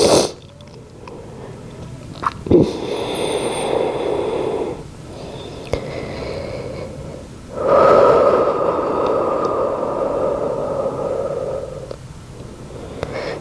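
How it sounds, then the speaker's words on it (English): Slow, deep breathing in a yoga session: long airy inhales and exhales, close to the mic, with one extended breath in the middle, no talk. "just start to take a couple deep breaths"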